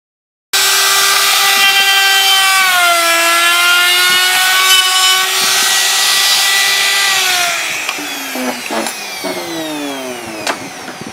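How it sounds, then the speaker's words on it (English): A router rounds over the edges of a cheap DIY acrylic LED sign, giving a loud, steady high-pitched whine that holds for about seven seconds before winding down and fading. "Now that we have it routed and our edges are rounded"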